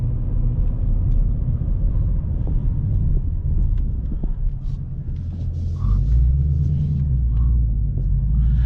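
A 2021 Ford Mustang Mach 1 with a V8 and six-speed manual drives along, a continuous deep engine rumble with road noise from inside the cabin, steady and loud throughout.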